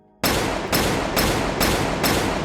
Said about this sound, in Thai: เสียงคำรามของอาวุธปืนนานาชนิด